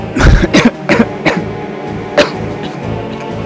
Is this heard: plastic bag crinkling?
no